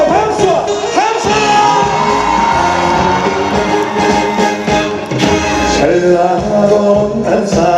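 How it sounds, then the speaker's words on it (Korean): Loud, sustained cheering and yelling from a big outdoor festival audience swells in waves and holds, with individual shouts and whoops standing out from the dense crowd noise. "온 힘을 다해서 마지막으로 박수와 함성!"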